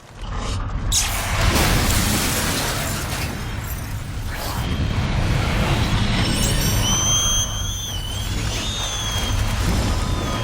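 A loud, sustained roaring blast with rumbling debris from a film explosion, followed by high whistling tones over continued rumble.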